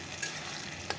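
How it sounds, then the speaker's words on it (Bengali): Onion frying in a pan, a soft steady sizzle with two brief stirring scrapes, quiet and close, no voices. "পেঁয়াজটা দেখতে পাচ্ছ ভাজা হয়ে গেছে, লাল লাল হয়ে গেছে"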